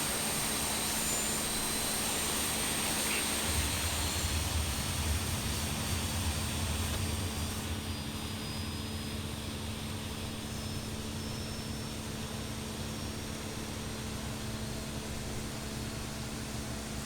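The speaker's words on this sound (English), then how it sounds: "these sounds are actually being recorded on the aircraft, a real life aircraft" Embraer EMB 175 jet engines recorded from the real aircraft and heard in a flight simulator game, a steady faint whining roar with a constant high tone, droning on without voices.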